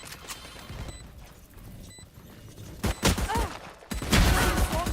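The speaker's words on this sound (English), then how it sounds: "Placing swarm grenade." A swarm grenade in Valorant bursting into a rapid series of sharp pops and crackling blasts, quiet at first and then loud, dense clusters of small explosions during the last two seconds.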